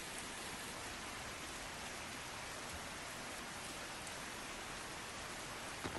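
Heavy monsoon rain pours down in Mumbai as a dense, steady hiss of drops drumming on surfaces, unbroken and close for the whole stretch with no voices.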